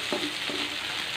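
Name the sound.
garlic and onion frying in a pan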